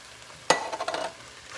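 Corn stirred into a hot pan for rajas con crema y camarones: a sharp scrape and clatter, then a short run of scraping stirs over a faint sizzle, close by.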